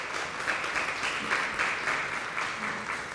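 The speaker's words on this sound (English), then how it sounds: "All right, give them a round of applause." An audience at an MLK commemoration event gives steady applause for past commissioners, a sustained, fairly soft wash of clapping from a room with faint voices mixed in.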